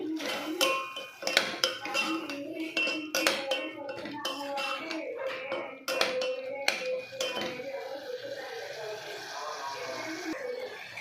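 A spoon mixes chili powder into Andhra-style spinach dal, scraping and clinking against the pot in quick irregular strokes, with occasional louder knocks and a continuous background hum.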